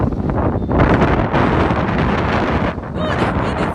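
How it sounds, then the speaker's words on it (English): Strong wind at a low-tide beach roars and buffets the microphone in loud continuous gusts, with a brief dip near the end. "Oh, that wind is so strong. It's blowing us over down here."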